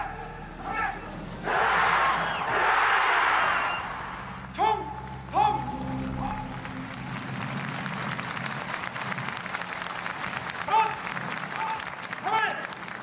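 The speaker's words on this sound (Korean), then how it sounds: "여러분 다시 한번 뜨거운 박수와 성원 부탁드리겠습니다" Loud applause and cheering from a large crowd at a taekwondo demonstration during the Korean Armed Forces Day ceremony, swelling for a few seconds, then fading under an announcer's amplified voice and continuing crowd noise.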